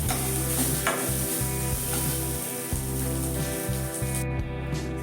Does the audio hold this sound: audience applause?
no